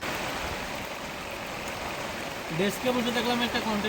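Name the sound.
rain falling on an open-air kitchen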